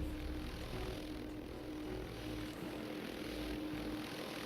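Steady droning helicopter engine with a continuous rotor hum, loud and unbroken throughout, with no voices.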